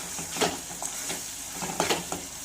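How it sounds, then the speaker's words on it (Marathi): Potatoes and peas sautéing in gravy in a pan over medium heat, a low sizzle with a few soft scrapes of a stirring spoon, brief and close with no speech. "साधारण याला 1 ते 2 मिनिटं परतून घ्यायचं आहे"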